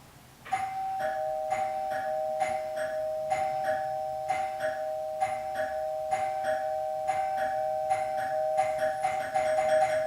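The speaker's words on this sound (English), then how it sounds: "now I'm going to go outside and ring the doorbell" A doorbell chimes again and again in a steady, repeating ding-dong pattern, clear and close, with a continuous tone running beneath the rings.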